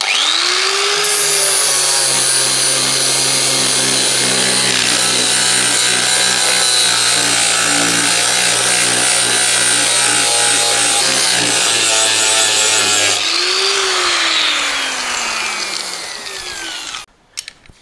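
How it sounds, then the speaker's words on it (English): Angle grinder with a flap disc cleaning loose paint off the metal of a John Deere D110 lawn tractor mower deck. It makes a loud, continuous high whine of grinding for about thirteen seconds, then spins down and stops. "I'll just give that a bit of a clean up with a flap disc"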